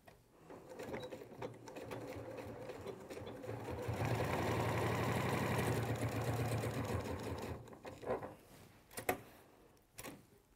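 A sewing machine stitches lines on fabric, starting with a moderate whir that builds into a sustained, louder run of rapid mechanical ticking. It then stops, followed by a few sharp clicks and knocks near the end.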